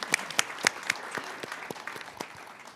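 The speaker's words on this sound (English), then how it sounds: "And give them a hand of applause." Light, scattered applause at a business event: a small room of people clapping, with a few sharp, distinct claps near the start and softer patter trailing off, all at a modest level.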